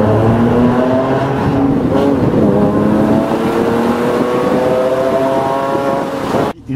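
Porsche 997 MKI Carrera with a SCART valved exhaust roars through a tunnel, a loud, steady rising engine note with heavy reverberation that cuts off abruptly at the end.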